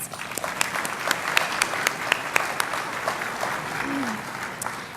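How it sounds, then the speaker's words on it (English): A crowd claps steadily for several seconds, a warm, even round of applause with scattered sharper claps standing out. "Please give Jason a round of applause."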